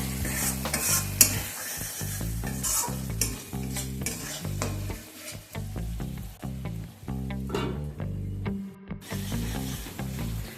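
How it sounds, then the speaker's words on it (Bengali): Mutton fat and spices fried and stirred in a covered pan for ghugni, with a steady sizzle and repeated scraping stir strokes in a rhythmic pattern, fairly close and continuous without speech. "এটাকে আমি চাপা দিয়ে মশলাটাকে খুব ভালোভাবে কষিয়ে নেব। মাঝে মাঝে ঢাকনা খুলে একবার করে নেড়ে দেব।"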